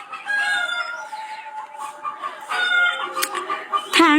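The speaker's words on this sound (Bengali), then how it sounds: "এবার বাইরের বরাবর আসে যে মোরগ, সেই ডাকাডাকি করে মাথা মাথা ব্যথা বানায় ফেলে।" A rooster crows repeatedly just outside, with drawn-out calls, some clucking in between and a sharp final crow, nearby and fairly loud.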